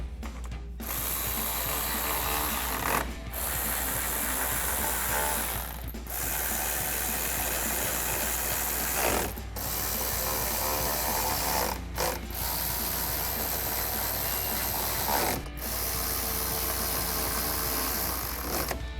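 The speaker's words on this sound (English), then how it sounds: "We'll go ahead and tighten those down." A hand ratchet tightens 7/32 bolts on a 2018-2023 Ford Mustang headlight housing, rapid clicking pawl strokes repeated close-up in several bursts with short pauses between them.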